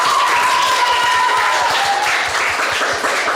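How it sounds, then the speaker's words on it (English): At a primary school quiz, a roomful of people applauds a team with loud, dense clapping that carries on evenly for several seconds, close and lively, with no one talking over it. "so give them a round of applause"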